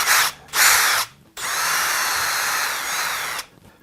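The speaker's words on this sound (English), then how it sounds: "because this is oak, I'm going to end up having to pre-drill the holes" Power drill pre-drilling small screw holes in oak for recipe box hardware: two short whirring bursts, then a longer steady drilling run, close and loud with no talk.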